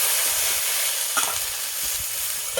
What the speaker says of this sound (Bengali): আমি ভেন্ডিটা কি সুন্দর লাল লাল করে ভেজে নিয়েছি